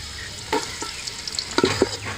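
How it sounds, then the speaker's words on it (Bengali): Carrots fry in a pan of ghee, butter and a little white oil, with a soft steady sizzle broken by a few sharp scrapes and clicks of a spoon stirring. "আমার গাজরটা হালকা করে ভাজা হয়ে গেছে।"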